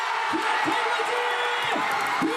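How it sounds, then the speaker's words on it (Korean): A Kia fans' baseball stadium crowd in Gwangju erupts in cheers at a championship win, a loud sustained roar of many voices with whoops rising over it, heard under a news narrator's voice. "그리고 잠시 후 기대했던 함성이 한꺼번에 폭발합니다"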